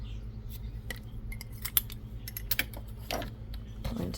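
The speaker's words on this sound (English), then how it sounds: "I'm going to cut this piece short." Scissors snip crochet yarn from a craft store crochet kit, a few light, close, crisp cuts over a steady low hum, with no talking.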